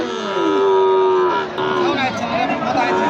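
Sahiwal cattle at a bustling cattle market, one long, loud moo stretching over a second followed by a shorter low call, with market chatter around.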